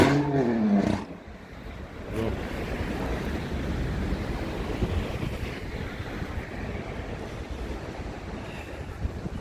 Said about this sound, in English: The sea is quite rough today.